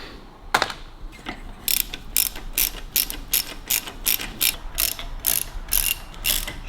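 A ratchet with a short socket removes Harley-Davidson engine parts, making quick repeated clicking strokes in a steady rhythm, close and crisp, with no talking.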